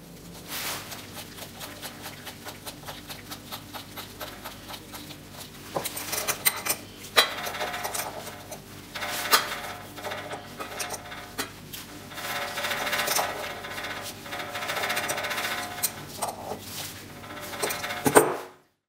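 Metal parts of a TDP tablet press clink, scrape and rattle as the centre ring is secured with its nut, with close, irregular handling sounds and taps that grow busier and louder toward the end.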